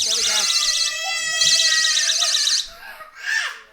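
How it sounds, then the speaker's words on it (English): A door alarm at a home entrance triggered by the door opening, a warbling electronic siren that sounds loudly in two long bursts, then cuts off as people talk nearby. "Can you move the alarm closer?"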